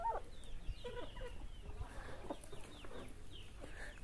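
Large hens cluck and chatter on a rural smallholding, with several overlapping calls close by over steady farmyard background noise and no talking.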